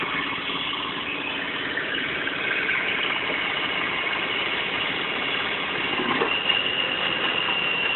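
A John Deere X585 lawn tractor engine runs steadily at close to half throttle after a Seafoam treatment, a continuous even drone with no speech, holding a constant level throughout.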